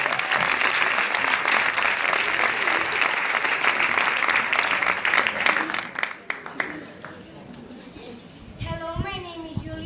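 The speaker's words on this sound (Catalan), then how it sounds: "Un aplaudiment." A school audience at a sixth-grade primary graduation gives loud, sustained applause that fades out after several seconds, followed by someone speaking.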